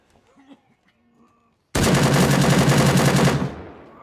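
A burst of rapid automatic gunfire in the Gray Zone Warfare video game rattles loudly for nearly two seconds after faint background sounds, then cuts off with a short fading echo.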